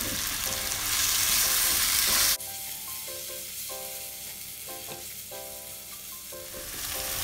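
Raw, unfried teri anchovies drop into a hot pan for gulai daun singkong, and a loud sizzle bursts out for about two seconds. It then cuts to a quieter, continuing fry with faint tonal sounds in the background.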